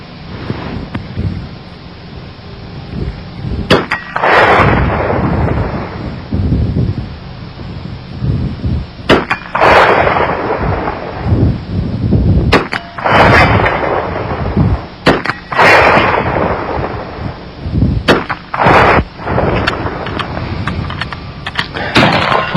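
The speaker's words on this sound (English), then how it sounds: "See how many times we can make it go bang." A .44 AutoMag pistol fires a string of about five loud, sharp shots outdoors, each blast followed by a rolling boom, spaced a few seconds apart with no voices between them.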